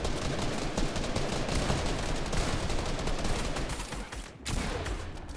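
Rapid gunfire in a Fortnite FNCS Grand Finals match, dense bursts of shots layered almost continuously, loud and close, with a brief dip near the end before the shooting resumes.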